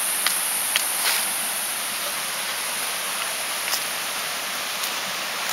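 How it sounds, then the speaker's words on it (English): A river flows near a forest path in blue morpho habitat, a steady broadband rush with a few faint clicks over it and no talking. "Right down here you can hear the river"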